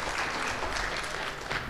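Audience applause for presenters at a clinical conference session, a short burst of clapping from a moderately sized room, fairly faint and steady.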